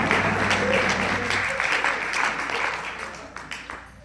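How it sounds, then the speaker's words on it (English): A live audience claps hands together in dense, steady applause that starts loud and slowly thins toward the end, with a low hum beneath it for the first second and a half. "That's where you clap your hands."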